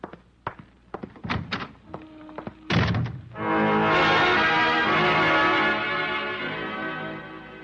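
A door thumps shut with a solid wooden knock after a few scattered footsteps and clunks, then a sustained musical swell rises and holds beneath.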